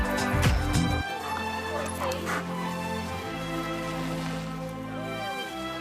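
Dogs at a dog sports event: a close, loud bark and yips at the start, then quieter dog whimpers amid a busy outdoor crowd hum and a steady background drone.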